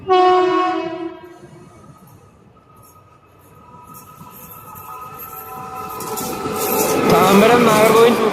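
A Punalur–Madurai Express train at Thiruparankundram railway station sounds a loud, sustained horn, then its rumble swells steadily as it gets under way.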